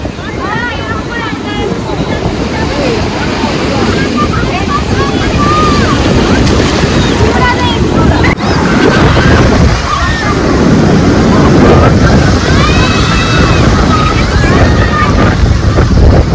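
Ocean waves breaking on the beach at Puri, a loud continuous roar of surf with heavy wind buffeting the microphone and voices of people in the background.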